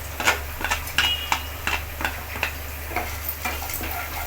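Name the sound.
sautéing onions with curry leaves in pan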